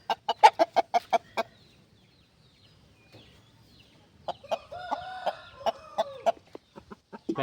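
Bhimavaram breed hens cluck near and clear in sharp, rapid bursts, first a quick series, then a pause, then more clucks with a brief drawn-out call.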